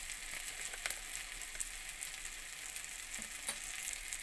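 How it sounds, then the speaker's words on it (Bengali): Chopped coriander leaves frying in a pan for a dhaba-style egg tadka, a faint steady sizzle with a few soft stirring clicks and no voices. "ধনেপাতা কুচি দিয়ে একটু ভেজে নেব।"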